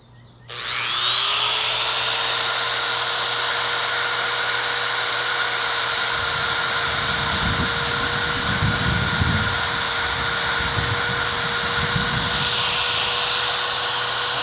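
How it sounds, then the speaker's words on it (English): A dual action power sander whines loudly and continuously after starting up, with a grinding rumble rising midway as it bears down on a cracked car dashboard pad. "Now I'm gonna take my DA sander, knock all this down around the grills"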